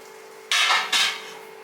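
Native coriander seeds clatter twice in a heavy-bottomed pan set up for dry-roasting a traditional kulambu powder, two short, close scraping rattles over a faint steady hum.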